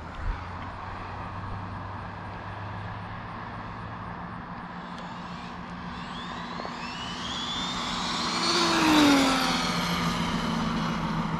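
Arrma Limitless RC car doing quick test runs, its motor whining and rising in pitch as it accelerates past, swelling loudest near the end over a steady background hum.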